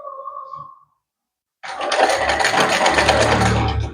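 A sewing machine stitches fabric after a brief voice and a moment of silence, starting up and running at a fast, steady whir close by.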